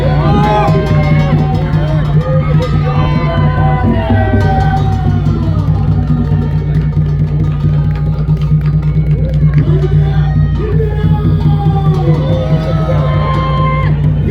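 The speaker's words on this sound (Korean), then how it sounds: "또 뜨거운 박수 부탁드리겠습니다" A large outdoor crowd of rally-goers near Hyehwa Station cheers and whoops loudly and continuously, with shouting voices and general hubbub throughout.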